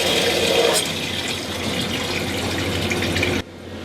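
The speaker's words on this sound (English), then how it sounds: "And now this is fresh water cycling through the tankless and washing out all the vinegar." Fresh water flushes through a tankless water heater and a garden hose into a bucket, a loud steady rush of splashing water that cuts off abruptly near the end.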